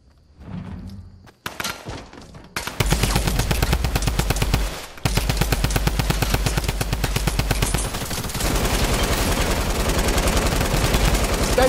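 Drum gun firing in Fortnite Battle Royale: a long, loud, rapid automatic stream of shots close up, broken by a brief pause partway through and then resumed, with a few quieter thuds before it starts.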